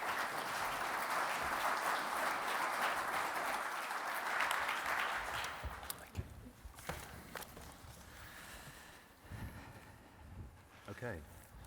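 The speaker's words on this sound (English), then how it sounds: "Big round of applause, please." An audience at a finance panel event claps steadily for welcomed panel members for about six seconds. The applause then fades into scattered footsteps and room noise.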